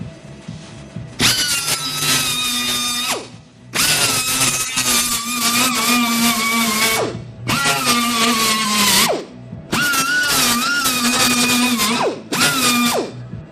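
A power tool grinds down welds on the steel rear panel of a Ford Falcon XB GS in five loud, whining bursts of about two seconds each, separated by short pauses.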